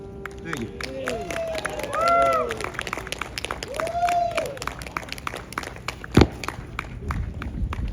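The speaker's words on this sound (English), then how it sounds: "Another round of applause for Pete." An audience at an outdoor Earth Day event in Vancouver claps and cheers amid crowd chatter. Brief whistles or squeaky tones rise above the clapping, and a sharp knock or thump comes near the end.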